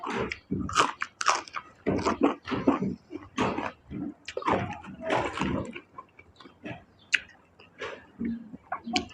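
Close, crisp chewing and crunching of spicy salmon salad dressed with fermented fish sauce and crisp vegetables, shallots and cherry tomatoes: a steady run of wet bites and crunches with no talk.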